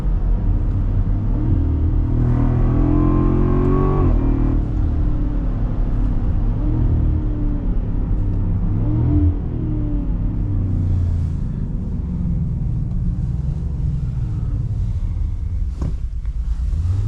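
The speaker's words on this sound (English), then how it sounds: "you can hear the supercharger, you can hear the exhaust" A 2024 Land Rover Defender's supercharged V8 roars deep and loud, rising in pitch as it accelerates, with a throaty exhaust rumble and a faint supercharger whine throughout.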